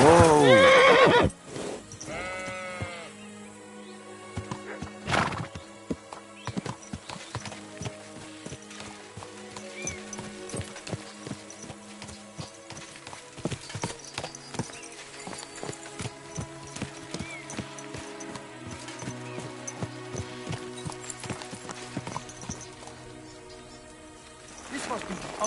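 A horse in Kingdom Come Deliverance 2, with hooves clip-clopping at a steady rhythm and a whinny near the start, all heard over a bed of game music.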